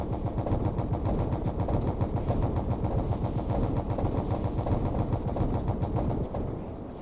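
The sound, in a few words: main gun firing on a bomber in the video game Stormworks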